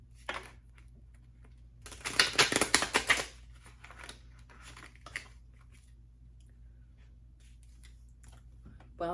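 A deck of cards being shuffled, a dense burst of crisp riffling clicks for about a second and a half, then quieter scattered taps and card handling against a steady low hum.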